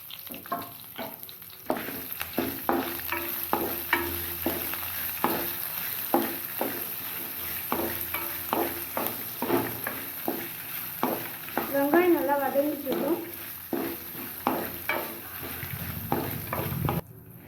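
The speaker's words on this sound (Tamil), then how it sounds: "வெங்காயம் போட்டதெல்லாம் நல்லா வதங்கிடுச்சு" Curry leaves and onions sautéing in a pan for carrot chutney: a steady soft sizzle under repeated scraping stir strokes, close and fairly quiet throughout.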